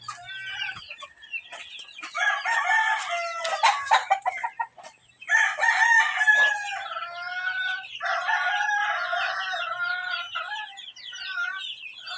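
Chickens cluck and squawk loudly in a dense flock, with crowing mixed into the busy, continuous chatter; no one speaks.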